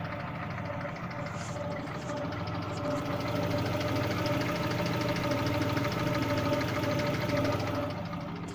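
A car engine idling after a cold start with a persistent rattling knock, suspected connecting rod trouble, heard close and steady as an even metallic clatter over the running hum for the whole stretch.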